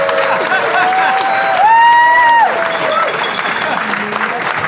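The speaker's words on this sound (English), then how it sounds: "And we have a round of applause for Nicholas Santo." An audience at a comedy show claps and cheers for a stand-up comedian, a dense, loud burst of applause that holds steady throughout, with a voice speaking over it.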